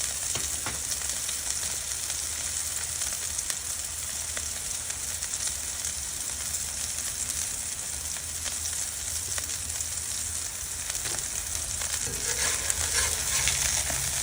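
Smash burger patties seasoned with salt and pepper sizzle on a Blackstone griddle, a steady, dense crackling fry that holds at an even level throughout with no talking.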